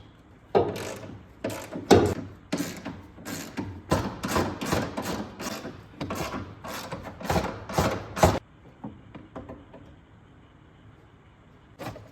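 A ratchet wrench with a 13mm socket backs out the bolts on the fuse box cover of a 2006 Chevy 2500 HD, giving loud, close bursts of rapid clicking that stop and start several times before trailing off into quiet.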